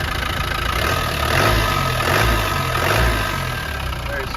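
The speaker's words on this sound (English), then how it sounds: "Very smooth revving engine." Close up, the 200Tdi diesel engine in a 1991 Land Rover Defender 90 revs up and settles back a couple of times, swelling from a steady idle into smooth, rising blips of engine roar.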